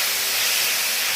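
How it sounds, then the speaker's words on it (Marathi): Hot pan of paneer chilli vegetables hissing sharply as soy sauce hits it, a brief, loud, steady sizzle with no voices. "नंतर त्याच्यामध्ये सोया सॉस टाकायचा आहे"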